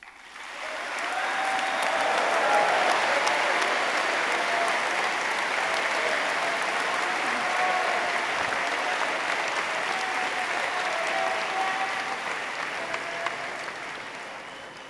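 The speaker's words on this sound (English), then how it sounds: "round of applause." Large-crowd applause at a closing ceremony honours a line of citizens of the week, swelling quickly and holding as a broad, even roar of clapping for over ten seconds before easing slightly.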